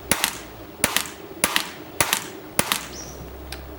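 Five sharp .177 air rifle shots fired at a steady pace, each a crisp, close crack with a short decay, using 10-grain Zan slugs at low power; a faint high tone follows the last shot.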